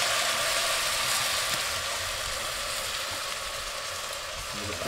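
Stock sizzles steadily and loudly in a hot pan with sautéed onions on a Kamado Joe grill, a dense continuous frying hiss throughout with faint stirring, no voices.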